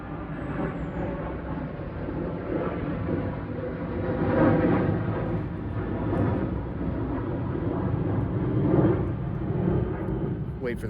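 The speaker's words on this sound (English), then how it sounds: "wait for the plane to pass, sorry." An airplane passes overhead as a low, broad rumble that swells and fades, heard indoors without any speech.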